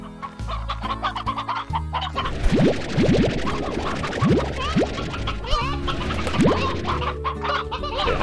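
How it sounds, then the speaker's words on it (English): Hens cluck repeatedly in the video game Slime Rancher, a busy overlapping chorus of close, lively clucks and squawks over a low droning game hum. "More hens."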